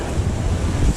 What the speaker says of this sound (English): So a gust of wind came through and started rearranging all their chairs down there.